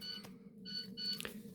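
Faint, repeated electronic beeping from the film 2001: A Space Odyssey, a few short high tonal pulses in a quiet, low-humming room, no voices.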